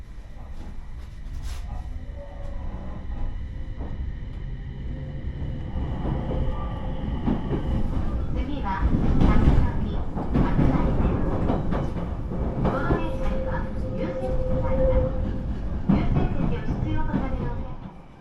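A train on a small Japanese mountain railway pulls away, a steady low rumble with clanks, knocks and a faint squeal building as it gets moving, heard from on board at close range.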